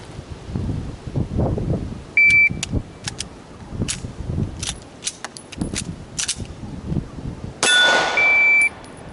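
A pistol fired at a steel target, marked by sharp metallic clangs ringing out several times at uneven intervals over quieter handling and movement noise, one strike near the end ringing longer.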